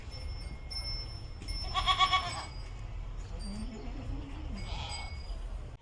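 A goat gives a couple of short, fairly faint bleats at an outdoor tree-planting gathering, with faint clinking and low background noise.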